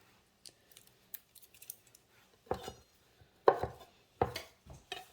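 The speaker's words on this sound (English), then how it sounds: "Now I'm just gonna rough chop this" Garlic being rough chopped with a knife on a cutting board: a few light taps, then several louder, sharp chops spaced unevenly, close up with no talking.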